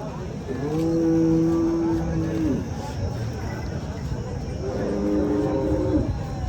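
Two long, deep moos from bullocks, one early and one later, over a noisy outdoor background of crowd murmur at the Deulgaon Raja bullock market in Maharashtra.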